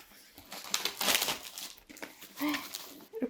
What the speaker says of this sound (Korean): 이렇게 비닐을 벗기고